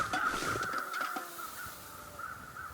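A crow cawing in the snowy wilderness of the game The Long Dark, a series of harsh, rasping calls repeated at a moderate distance and fading slightly toward the end, with no other voices.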